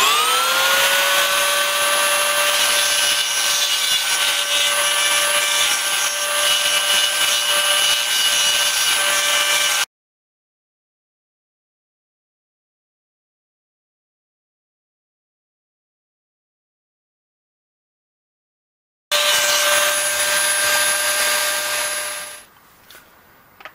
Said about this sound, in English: I'll use an inexpensive diamond burr to